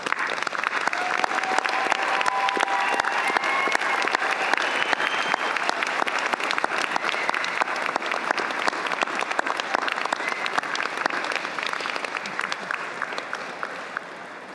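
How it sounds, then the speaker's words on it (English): Sustained applause from a large graduation ceremony audience fills the hall, a steady dense wash of clapping that holds for the whole stretch before tapering slightly at the end. "join me in a round of applause to say thank you for all of their help in achieving this milestone"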